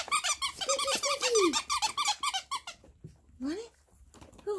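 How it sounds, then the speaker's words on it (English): A squeaky dog toy squeaks in quick repeated bursts, loud and close, while a person talks excitedly. "Look! Squeaky!"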